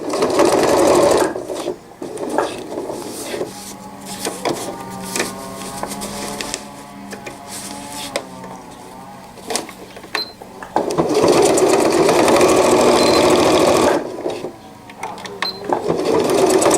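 A sewing machine stitches to tack down elastic on a cloth diaper cover. It runs in loud close bursts with brief pauses between them, and the needle chatter slows and quickens across the stretch.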